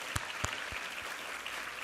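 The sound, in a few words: congregation applause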